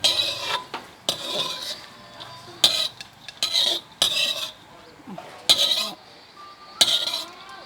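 A metal spoon scrapes and clinks against a pan and bowl in repeated short bursts as fried lemongrass is scooped out, with quiet pauses between strokes and no talking.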